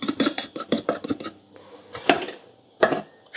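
A preparation is stirred in a metal pan with a utensil, producing a quick series of clinks and scrapes that slows into a few separate, sharper knocks.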